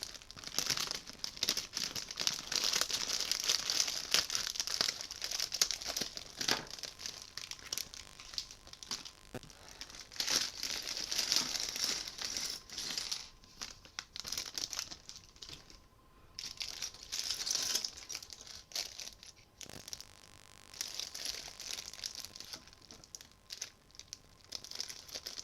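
Paper being crumpled and crinkled while assembling a Lego Harry Potter Polyjuice Potion scene, a dense, continuous crackling rustle close to the microphone, with a few brief pauses and no speech.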